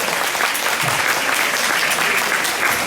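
Seniors at an afternoon tea gathering in Mantes-la-Jolie applaud an organiser, steady dense hand clapping throughout with a faint voice briefly underneath.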